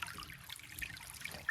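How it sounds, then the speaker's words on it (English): Water trickles steadily into a container, a soft, continuous pour with faint splashing, close and fairly quiet, with no voices. "We're gonna pour this water into here and then pour some electrolyte mix to give it some better flavor."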